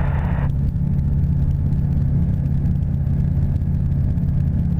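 Sling 2 light aircraft engine running steadily during an in-flight magneto lane check, a constant loud droning rumble with a brief higher whine at the very start and no voices.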